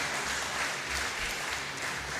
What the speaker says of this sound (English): Please, let's give a round of applause as they mount the stage